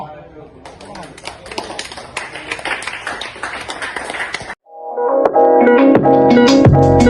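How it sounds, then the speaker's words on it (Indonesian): A burst of scattered hand clapping under someone speaking, then cut off as loud music begins. "Tepuk tangan,"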